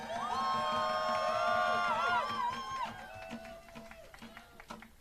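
Rally crowd cheering and whooping loudly, with high shouted voices and whistles rising over a steady roar that fades somewhat toward the end.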